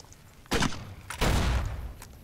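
Grenade rifle shots in the video game Fallout New Vegas: two loud, close blasts about half a second apart, the second heavier with a lingering low rumble, and a fainter pop near the end.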